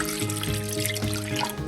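Water pours steadily into half a cup of moong dal lentils in a pressure cooker, a close, continuous trickling splash filling the whole moment.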